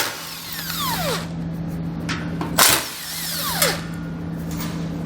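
A power tool with a 15mm socket spins out skid plate fasteners during a Roadmaster crossbar-style base plate install, giving two short whirring runs with rising pitch and metallic clanks, over a steady background hum.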